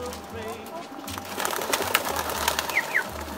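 Baby pigeons coo with soft, low repeated notes close by, mixed with faint rustling and a few higher chirps, over a background of other birds.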